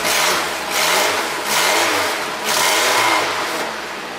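A Volvo car engine fitted with a muffler taken off a Honda runs close by, revving up and easing off in four rhythmic surges over a steady engine drone.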